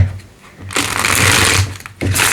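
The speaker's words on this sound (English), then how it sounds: "Yeah, they just want me to keep on shuffling." Tarot cards being shuffled for a pick-a-card reading, a dense papery riffling that runs steadily for over a second, pauses briefly, then starts again, close and fairly loud.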